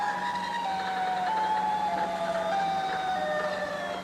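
Wailing sirens with slow, wavering, descending tones that overlap eerily, steady and loud throughout with no voices.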